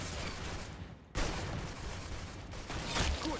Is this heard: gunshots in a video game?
yes